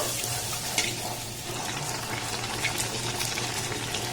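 Luchi, puffed fried bread made with ripe palm, frying in hot oil in a pan, giving a steady close sizzle and bubbling hiss throughout with a few faint clinks, no talking.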